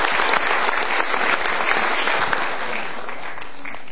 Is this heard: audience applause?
yes